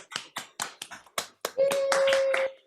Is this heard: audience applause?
yes